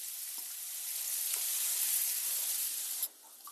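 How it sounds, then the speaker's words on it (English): Diced onion hits hot melted butter in a pan, giving a loud steady sizzle and frying hiss that holds for a few seconds before dropping off sharply near the end, with no talking over it. "Now we're going in with, I have a diced onion here."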